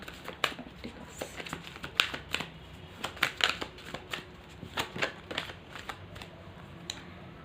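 Tarot cards are handled and shuffled up close, producing a quick series of crisp, papery flicks and snaps at an irregular rhythm in a quiet room.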